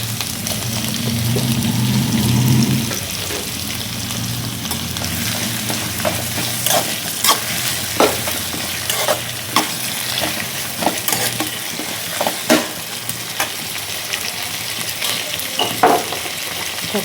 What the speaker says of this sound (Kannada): ಗೋಡಂಬಿ ಸ್ವಲ್ಪ ಚೆನ್ನಾಗಿ ತುಪ್ಪದಲ್ಲಿ ಫ್ರೈ ಆಗಬೇಕು.